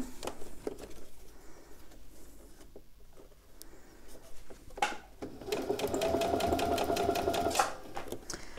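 A sewing machine stitches piping onto a bag strap. A few soft taps and handling noises come first, then a steady, fast mechanical whirr of stitching lasts about two seconds, close and clear, with no talk.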